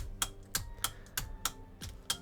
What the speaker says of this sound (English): It's the flight stick buttons I'm just clicking.